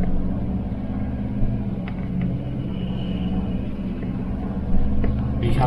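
A car driving at night, a steady low engine rumble and road drone heard from inside the cabin, with a slight swell near the end and a voice faintly in the background.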